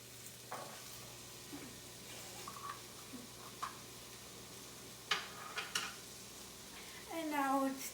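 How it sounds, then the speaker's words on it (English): Onions, garlic and carrots saute in a pot for chicken gnocchi soup, a faint low sizzle broken by scattered spoon clicks and scrapes, fairly quiet throughout. "And now it's time to saute them for about 2 minutes."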